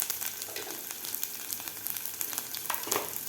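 Finely chopped garlic and cumin fry in oil in a pan for a bhendi fry, giving a steady soft sizzle with light crackles and occasional stirring scrapes, with no voices.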